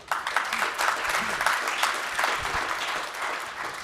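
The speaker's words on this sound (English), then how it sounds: "another round of applause for IPM making 50 years," A steady round of audience applause at a celebration of an organization's 50th anniversary fills the room, with dense continuous clapping from start to finish and a faint voice or two mixed in.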